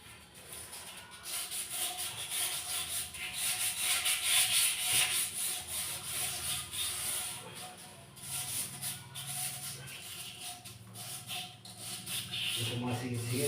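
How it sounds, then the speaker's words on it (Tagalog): Steady rough rubbing and scraping of sandpaper worked back and forth to remove rust from a surface, continuing throughout at a moderate, uneven rhythm. "liha na pala ang ginagamit natin para matanggal"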